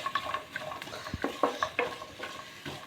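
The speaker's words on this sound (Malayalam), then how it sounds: "നമുക്ക് ഇതിലോട്ട് ആദ്യം ഈ ക്യാരറ്റ് ചേർത്ത് കൊടുക്കാവേ" Carrots stirred into melted butter in a pan, a short burst of light scraping and tapping strokes over a gentle sizzle, close and moderately quiet.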